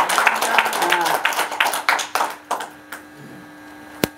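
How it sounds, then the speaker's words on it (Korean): Scattered clapping from a small audience, a burst of hand claps that thins out and fades, with a single sharp tap near the end. "우리 윤석산 교수님 수고하셨습니다. 박수로"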